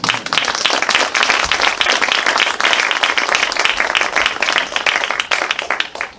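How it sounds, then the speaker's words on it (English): An audience at a refugee health report event breaks into loud, close applause, individual claps sharp and fast, holding strong for several seconds before easing off at the end. "So let's give them a round of applause."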